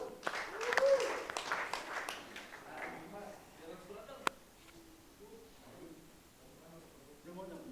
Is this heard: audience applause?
yes